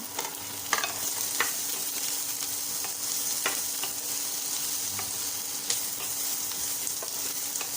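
Chicken stir-fried with onion, bell pepper and tomato for a BBQ-sauce dish, a continuous moderate sizzle with scattered clicks of a utensil against the pan, close and without speech.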